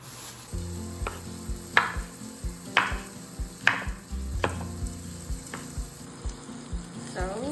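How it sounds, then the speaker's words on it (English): Smoked pork stir-fried with karela and brinjal sizzles steadily in a pan, punctuated by several sharp scraping and clanking strokes of a spatula stirring the pieces at an irregular rhythm, close and fairly loud. "I want to stir fry with my karelas"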